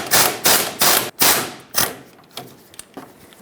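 A 21mm socket wrench breaking loose a mounting nut on the inner tie rod of a 1999-2007 Ford F-350, giving a series of sharp, loud metallic clacks in a quick rhythm that grow fainter and sparser toward the end.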